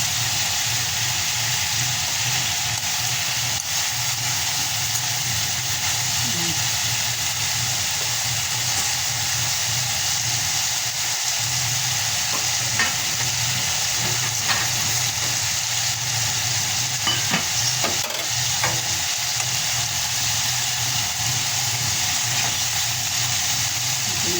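Chicken pieces brown in a pan for adobo with a steady, even sizzle and hiss alongside a constant low hum, close by and without talk.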